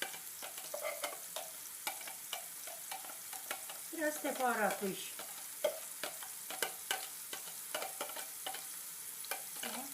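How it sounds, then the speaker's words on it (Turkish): Onions sizzle steadily in oil in a pan while stirred, with scraping clicks and a short burst of louder frying midway, and a brief voice speaks. "Şimdi soğanları kavuruyoruz."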